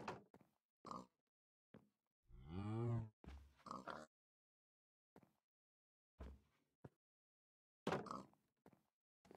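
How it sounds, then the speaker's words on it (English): A cow in a video game gives a loud drawn-out moo lasting about a second, with short grunting animal sounds and clicks scattered before and after in otherwise quiet surroundings. "Okay, now we have a cow."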